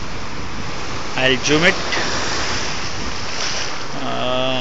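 Big ocean waves wash and roar continuously at a damaged jetty under gusting wind noise, while a voice speaks briefly partway through.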